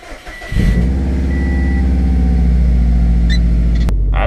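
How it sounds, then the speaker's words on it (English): A car engine cranks and catches after an ECU map reflash, then settles into a steady, loud, slightly rough idle recorded close up with no talking. "We'll see what happens right now when I try to start this thing up."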